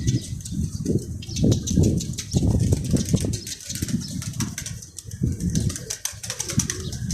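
Pigeons kept in a loft coo in low repeated throaty phrases, close and overlapping, with occasional flapping wings and scattered clicks and rustles through the whole stretch.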